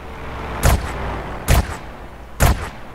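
Three heavy sniper rifle shots in a GTA game, evenly spaced booming cracks about a second apart, loud and close with no voices.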